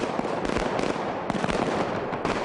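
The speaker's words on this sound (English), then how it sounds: "The rapid, endless repetition of gunshots draws the audience right into the shootout" Rapid, dense bursts of automatic gunfire crackle continuously, loud and close, with sharp repeated shots overlapping one another, from the street shootout in the film Heat.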